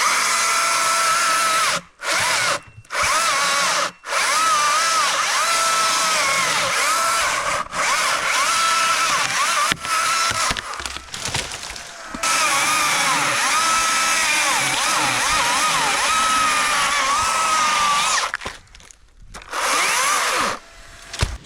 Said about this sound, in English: We are chipping all of the timber that he's brought down, all of the branches he's brought down